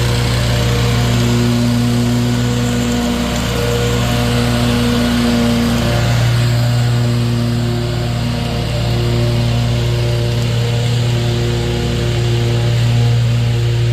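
A lawn mower runs loud and steady at close range, its engine droning evenly throughout with no voices over it.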